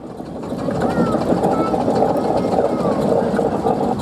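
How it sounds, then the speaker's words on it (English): A 4-inch scale Fowler steam traction engine at a steam rally runs with a loud, steady mechanical rumble and chuffing, heard up close without interruption. "4-inch scale Fowler engine"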